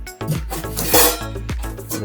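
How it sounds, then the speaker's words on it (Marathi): Metal cooking pots and lids are stacked one on another, giving a quick series of close, ringing clanks and clatters over about two seconds, with no voices. "पातेल्यावर आणि पातेल्यावरती झाकण एक त्यानंतर दुसरा पातेला आणि त्याच्यावर एक झाकण"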